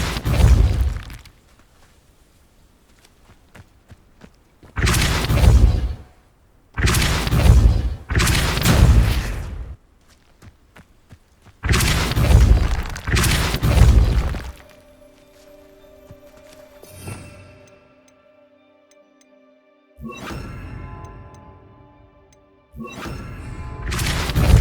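Spell effects from Hogwarts Legacy: Depulso, Confringo and Levioso casts land as a series of loud, separate bursts with crashing and shattering impacts, broken by quiet stretches and a lingering ringing tone.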